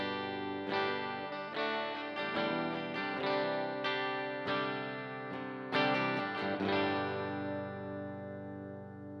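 Electric guitar on the bridge pickup with both controls maxed, played with a clean tone through an MzoFx Ohm reverb pedal: a series of strummed chords and picked notes with bright attacks and long ringing tails that fade out at the end.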